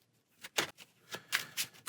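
Playing cards shuffled by hand during a tabletop card game, soft papery riffles and flicks in quick uneven bursts, quiet and close.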